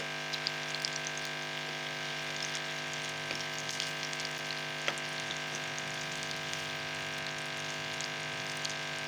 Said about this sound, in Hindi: माशाल्लाह अच्छी सी फ्राई हो गई है।